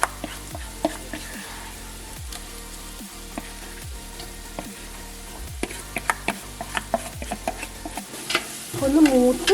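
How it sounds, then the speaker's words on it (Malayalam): Ground masala paste fries in a pan for Kerala-style fish head curry, with loud repeated spoon scrapes and clatters over a steady sizzle, close up and without speech. "ഇനി അതിലേക്ക് നമ്മൾ തയ്യാറാക്കി വെച്ചിരിക്കുന്ന ഈ അരപ്പ് ഇട്ട് കൊടുക്കാം"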